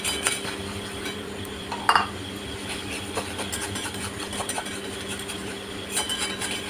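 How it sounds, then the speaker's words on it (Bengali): A spice paste with a little chili powder is stirred in oil in a pan for a chicken dish, giving continuous scraping and sizzling with scattered metallic clinks and one sharper knock, under a constant background hum. "দিয়ে ভালোভাবে ওই মশলাটাকে কষিয়ে নেবো আরেকবার তেলের মধ্যে"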